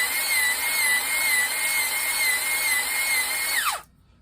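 Drill-driven hone cutting the cylinder of a Kohler K321 engine block, lubricated with kerosene: a loud, steady high whine with a rough grinding edge that winds down and stops abruptly near the end, with no one speaking.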